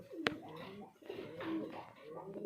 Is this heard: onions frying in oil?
no